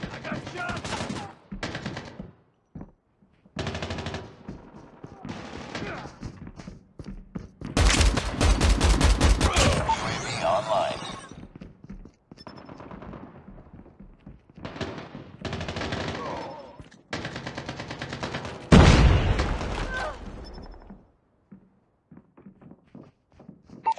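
Bursts of automatic gunfire from Call of Duty Mobile, with the XS1 Goliath in play, rattle loudly in repeated volleys separated by short pauses, mixed with footsteps and game sounds.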